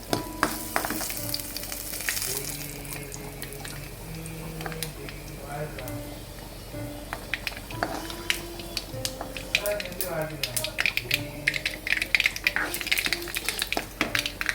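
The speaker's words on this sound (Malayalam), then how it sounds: "ഉള്ളിയും മുളകും കടുകും കറിവേപ്പിലയും കൂടെ ഒന്ന് വറുത്തെടുക്കാം" Mustard seeds, onion, chilli and curry leaves crackle and sizzle in a pan as a tempering for koorkka theeyal, steady frying under a speaking voice with clinks of utensils.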